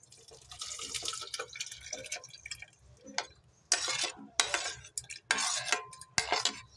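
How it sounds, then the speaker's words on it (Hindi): Cooked, cooled raw mango pieces are tipped into a juicer jar, giving clinking, scraping utensil sounds and soft wet plops in irregular bursts, near and moderately loud, with no talking. "अब हम जूसर में डाल लेंगे।"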